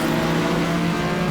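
Racing car engines roar in the GTR2 game as a Lister runs at Daytona, a loud, sustained, steady engine drone close by.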